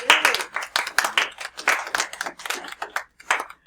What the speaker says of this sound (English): Thank you for participating and clapping for your fellow students.